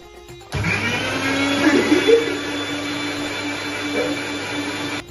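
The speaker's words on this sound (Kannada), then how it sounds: "ಇವಾಗ ಎಲ್ಲರೂ ಮಿಕ್ಸಿಗೆ ಹಾಕ್ತೀನಿ" A mixer grinder switches on and blends ingredients with a loud, steady whirring roar that holds at an even level from start to finish, with no talk over it.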